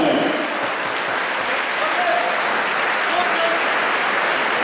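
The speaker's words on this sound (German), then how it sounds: "Applaus für Thomas Schmoll" Arena applause at a boxing match, a continuous dense roar of clapping with crowd noise, steady and fairly loud, with faint voices mixed in.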